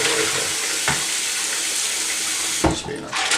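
A kitchen or bathroom tap runs steadily into a sink while keyboard keycaps are washed: a dense, close hiss of flowing water with a couple of brief splashy bursts near the end.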